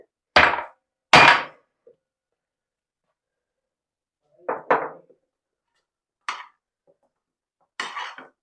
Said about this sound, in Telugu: ఇప్పుడే ఇలా దంచిన ఇలాచీ అంతే.